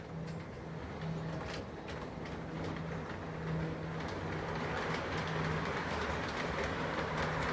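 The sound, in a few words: model railroad train running on track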